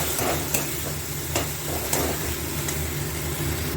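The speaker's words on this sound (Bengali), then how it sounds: "এবার একটু সব ভালো করে কষিয়ে নেব" Tomatoes with turmeric and Kashmiri chilli powder sizzling and being stirred in a pan for a Bengali prawn kalia, a steady close frying hiss with a few sharp scraping stirs of a spatula and no talking.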